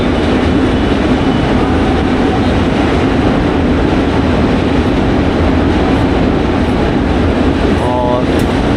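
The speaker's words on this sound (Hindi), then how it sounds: "ये देख सकते हैं ट्रेन जा रही है" Train crossing the new bridge toward Varanasi at Prayagraj during the Maha Kumbh Mela, a steady loud rumble of rolling wagons filling the whole stretch, with a voice talking over it.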